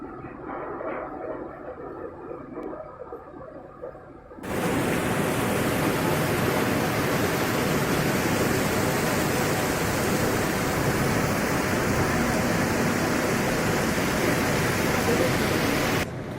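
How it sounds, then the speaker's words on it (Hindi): A river in Gilgit-Baltistan rushes loudly, its roar cutting in abruptly after a few quieter seconds and then holding as a dense, constant torrent of close, powerful water noise. "पानी बहुत जोर और शोर से"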